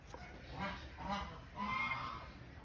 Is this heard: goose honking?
yes